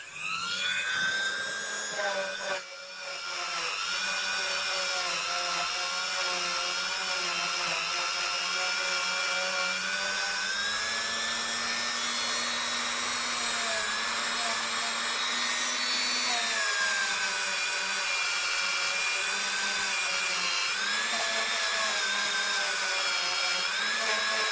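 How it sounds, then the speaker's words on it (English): Rotary wire brush on a power tool cleaning rusty bolts from a Westfield Strat guitar, a loud sustained whine that slowly shifts in pitch as it bears on the metal, running nearly unbroken. "Just using a wire brush to clean up the rusty bolts and things."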